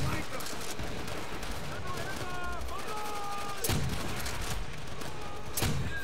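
Gunfire in Call of Duty: World at War, with two sharp loud shots standing out over a busy stretch of game noise, tonal sound effects and background clatter.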